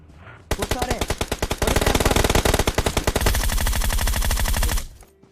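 Groza assault rifle fire in the Free Fire battle royale game: loud, close sustained automatic bursts with rapid, evenly spaced shots running almost continuously for about four seconds, then cutting off abruptly.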